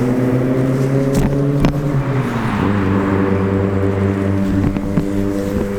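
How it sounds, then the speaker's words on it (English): A small car's engine drones loudly and steadily close by, its harmonic hum holding throughout with slight shifts in pitch and a few brief knocks, no one talking. "That's a lot of noise from a little car"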